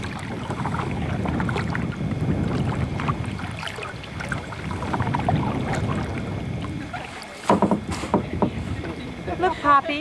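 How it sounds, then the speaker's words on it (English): Kayak paddling on a salt water inland waterway near sunrise: rhythmic swells of paddle strokes and water swishing in repeated waves, with wind buffeting the microphone, a few sharper knocks and people talking nearby. "I'm kayaking."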